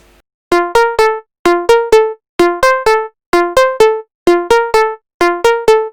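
Trance synth arpeggio with light overdrive distortion, crisp bright plucked notes repeating in quick groups of three with short gaps, a steady looping pattern played loud and alone.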